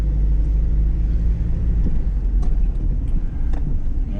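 Steady low interior rumble from a car being driven on a hot day, with constant road and engine drone filling the cabin and a few faint light knocks, no talking.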